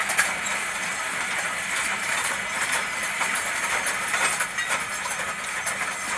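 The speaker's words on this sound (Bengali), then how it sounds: "না চলো মেশিনটা স্টার্ট করে দিই" Puffed rice roasting machine running beside a very hot pan, a continuous loud mechanical clatter and rattling churn with hissy, steam-like texture, steady throughout and close.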